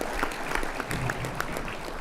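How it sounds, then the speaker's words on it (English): A banquet audience at a collegiate livestock judging awards event claps steadily for the whole stretch, a dense and moderately loud round of applause with no voices standing out. "Can y'all give her a round of applause for having a baby 2 weeks ago?"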